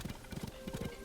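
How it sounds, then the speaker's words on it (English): Horse hooves clip-clop in a steady, close rhythm as a solid-colored horse trots in the video game Tears of the Kingdom, heard alone with no talk over it. "Ooh, this is a solid colored horse."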